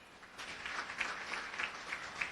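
Audience at a teachers' debate clapping steadily, a soft continuous patter of many hands with slight swells, moderately distant and without talk.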